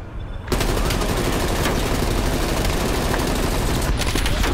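Rapid SMG automatic fire in the Call of Duty game on the Nuketown map, loud sustained bursts filling nearly the whole stretch after a brief quiet start, with dense overlapping shots and no clear gaps.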